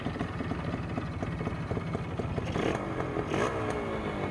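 A Honda H100S motorcycle, left unused for a long time and just started after its dirty carburetor was cleaned, idles with a rapid steady putter and slight rises in revs, close by, no talking.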